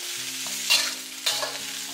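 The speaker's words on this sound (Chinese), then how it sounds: "大火给它煸炒2分钟左右，将白菜梗给它煸软" Napa cabbage stems stir-fried in a wok over high heat, a steady close sizzle with two scraping spatula tosses breaking through the continuous frying hiss.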